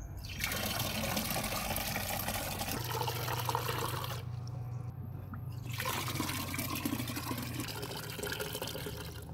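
Water pouring from a tank tap into containers used to rinse rabbit hutch trays, a steady close splashing fill that thins to a trickle midway, then resumes.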